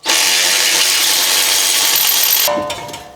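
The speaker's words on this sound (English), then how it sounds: "one of these cordless electric ratchets. Once I got these bolts loose, you can just spin these off" Cordless electric ratchet spinning off caliper bracket bolts during front wheel bearing work on a Nissan Pathfinder: a loud, steady high-pitched whir running for about two and a half seconds, then stopping with a few small metallic clicks.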